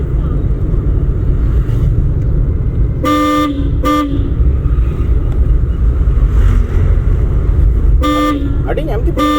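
A car horn honks in two short blasts and later once more during a driving lesson, loud and close over the steady rumble of the car's engine and road noise.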